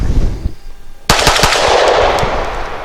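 A Canik TP9 Elite pistol is fired with Federal aluminum-case 115 grain full metal jacket ammunition, a quick string of sharp, loud, close shots on a range with busy background noise and no talk.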